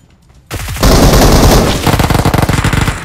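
Automatic gunfire from PUBG Mobile bursts in after a short quiet start, a loud dense barrage followed by a rapid run of distinct close shots.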